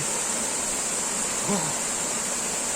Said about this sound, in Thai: น้ำตกน่าเล่นมากครับน้ำใสสุดๆเลย